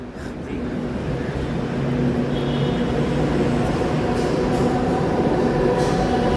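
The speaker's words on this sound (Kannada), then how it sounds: "ಗೈಸ್ ಮೆಟ್ರೋ ಬಂತು, ಮೆಟ್ರೋ ಬಂತು." A metro train pulls into the station with a rising, steady rumble and hum of wheels and motors that grows louder and settles into a sustained drone.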